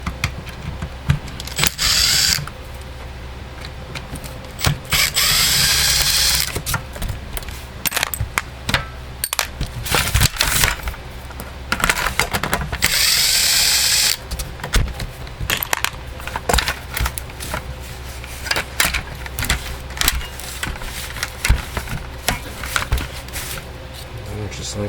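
A Husqvarna 120 Mark II chainsaw has its handle removed during a teardown, with close metallic clicks, clanks and rattling, plus longer ratcheting or scraping bursts of tool work against the plastic and metal body.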